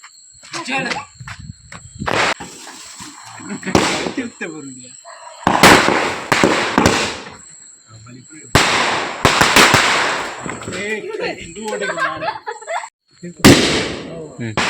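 A 12-shot firecracker pack goes off in a series of loud, sharp bursts with whistling squeals, spread over several seconds and mixed with voices talking and exclaiming nearby.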